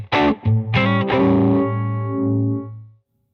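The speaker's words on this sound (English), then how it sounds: "an example of what a nice Leslie sound would be" An electric guitar runs through a Spruce Effects Badlands pedal set for a Leslie-style rotary modulation: a few plucked notes and a sustained chord ring out clearly and decay over about three seconds with no talking.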